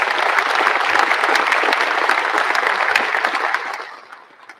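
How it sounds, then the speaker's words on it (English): An audience inside an aircraft hangar at an air base change of command ceremony breaks into full applause, dense clapping from a large crowd holding strong for several seconds before tapering off quickly at the end. "So let's give everybody a round of applause,"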